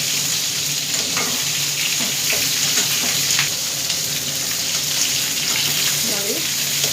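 Ridge gourd (heerekai) pieces frying in oil in a pan, a dense continuous sizzle with occasional soft scrapes of stirring, close and loud, with no speech.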